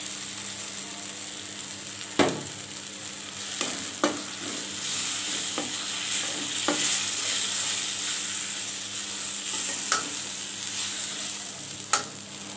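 Spice paste frying in a pan with lightly fried chopped onion and garlic, a steady sizzle broken by occasional scraping stirs, for a beef liver and potato bhuna.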